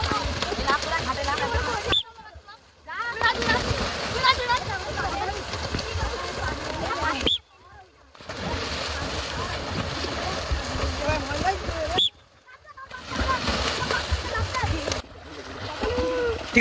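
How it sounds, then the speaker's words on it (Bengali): Boys race each other swimming outdoors, churning the water into loud, choppy splashing broken by brief pauses, with voices calling over the splashes. "এবার আমরা সাঁতার প্রতিযোগিতা করব।"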